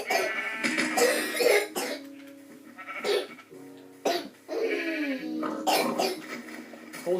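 A person coughs several times in a row, harsh, loud and close, with short gaps of raspy throat sounds between the bursts and no other talk.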